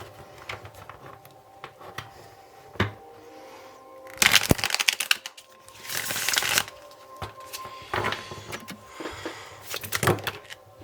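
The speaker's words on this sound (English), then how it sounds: "Now let's see with the tarot cards." Tarot cards being shuffled in several bursts of crisp riffling and slapping, loud and close, with quieter pauses between; no talking.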